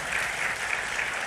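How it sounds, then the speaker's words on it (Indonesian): A church congregation breaks into applause during a sermon, giving a brief, even wash of many hands clapping together. "Wow, tepuk tangan buat Tuhan Yesus."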